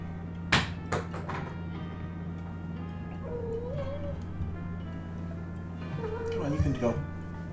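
Cat in a room giving a couple of short meows, the second one slightly louder, mid-distance, heard over a steady electrical hum with faint clicks and thumps.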